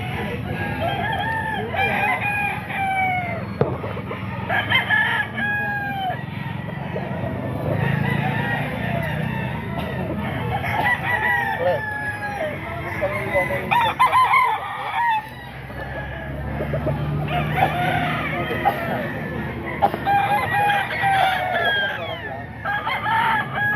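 Roosters at a gamecock sale crow repeatedly and cluck in a busy, continuous chorus, with several birds overlapping near and farther off and faint voices in the background.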